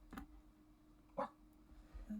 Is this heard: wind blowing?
no